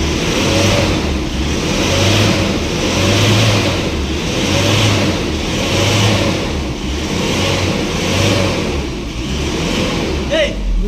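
An Isuzu Alterra engine, just cleared of a P0662 intake manifold tuning valve fault, runs close by with a loud, pulsing drone that rises and falls in repeated revs, with occasional speech nearby.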